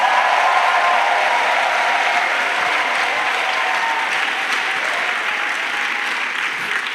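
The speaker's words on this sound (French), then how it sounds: "let's clap" A church congregation claps in acclamation to Jesus, a loud sustained wash of many hands that carries evenly throughout and eases slightly toward the end.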